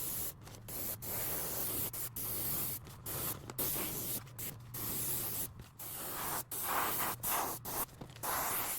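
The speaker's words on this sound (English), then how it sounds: "go over it with the airbrush with blue and later on black as well" Airbrush spraying dye onto leather for a scarab-design bag, a close continuous hiss broken by many short stops and restarts in an irregular rhythm.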